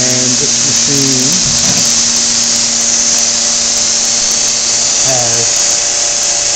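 Bell & Howell MailStar 350 envelope inserter runs with a steady, loud mechanical whir and hum throughout, punctuated by brief shifting tones as envelopes move through, with faint talking under it.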